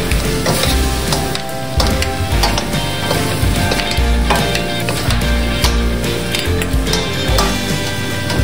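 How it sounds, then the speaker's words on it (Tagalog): Dinuguan fries loudly in a pan, a dense continuous sizzle close up, with frequent scraping and knocking of a utensil stirring through it. "Haluin nyo mabuti mga lord."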